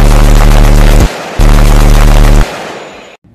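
Gunshots fired in rapid succession, a dense, loud, continuous barrage in two long bursts with a brief gap between them, then trailing off into silence.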